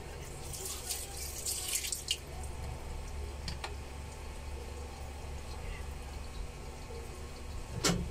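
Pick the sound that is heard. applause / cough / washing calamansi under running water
washing calamansi under running water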